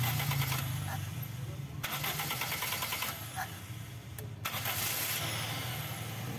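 Carbureted Toyota Corolla engine cranking and trying to start, a steady rough mechanical drone with rhythmic pulses and bursts of hiss, fairly faint throughout.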